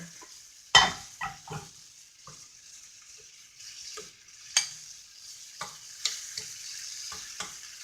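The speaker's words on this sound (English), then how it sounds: "I'm going to give it a good stir." A spoon stirs chopped apples into thick oatmeal pancake batter in a bowl, with a sharp knock against the bowl followed by soft scraping, wet swishes and scattered taps, close and fairly quiet, no voices.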